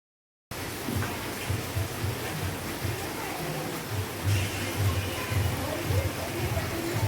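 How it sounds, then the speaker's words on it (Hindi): Sudden heavy rain pouring down steadily outdoors, a dense, continuous wash of noise with a low rumbling undertone, constant throughout. "अभी बहुत तेज़ वाली बारिश आ गई है"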